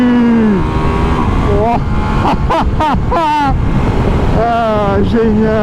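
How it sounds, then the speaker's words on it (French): Ducati Multistrada V4S motorcycle accelerating hard with quickshifter gear changes, engine pitch climbing and dropping in quick steps under wind rush, while a rider exclaims and talks. "Ah, on peut shifter à la descente en accélérant."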